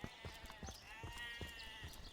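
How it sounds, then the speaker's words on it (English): Sheep bleating in the video game Divinity: Original Sin, several short wavering bleats repeating at a moderate distance over a quiet ambient backdrop. "I can hear sheep."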